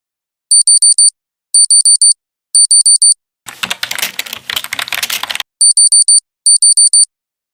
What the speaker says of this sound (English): The beeping sound was coming from inside a history classroom